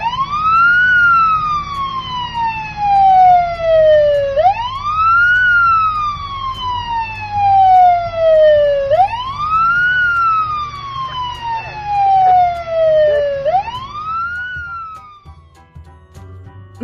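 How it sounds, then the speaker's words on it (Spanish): A wailing emergency siren sweeps up and falls in long repeated cycles, loud and continuous, with no voices over it. "el sonido de una sirena"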